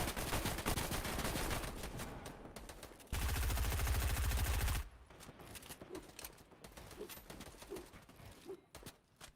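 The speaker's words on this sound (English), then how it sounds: "constantly getting peppered and barraged here by some sort of assault rifle bullets" Dense rapid assault rifle gunfire in a Fortnite match, a loud rattling barrage broken by a burst of heavy noise, then fainter scattered shots with faint bird coos in the background.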